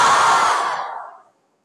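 A crowd of school students at an assessment result ceremony shouting a loud collective cheer in unison, a dense burst of many voices that fades out over about a second.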